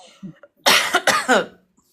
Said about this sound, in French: Je commence à tousser aussi